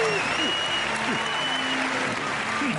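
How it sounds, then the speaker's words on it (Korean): Audience in a science show theater applauding and cheering a performer portraying Mendeleev, steady dense clapping throughout with brief vocal whoops and cries rising over the crowd. "박사님께 큰 박수와 환호 부탁드릴게요"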